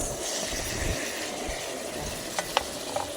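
Onion and tomato sautéing in a pan, a steady broad sizzle and frying hiss with faint stirring scrapes and a few sharp clicks near the end, no voices.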